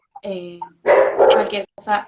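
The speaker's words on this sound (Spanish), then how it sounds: "Ese es mi perro ladrando" A pet dog barks a few sharp times close by in an indoor room, the barks overlapping with a person talking on a call.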